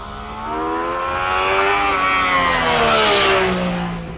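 A 2014 Yamaha FZ-09 motorcycle engine revs up in one smooth, loud sweep, pitch climbing steadily before easing back down, heard close with no talking.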